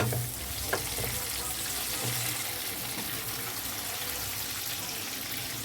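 Chopped tomatoes sizzle and fry with lightly browned onions in a pan over lowered gas, a soft continuous crackle with a few stirring knocks, no voices.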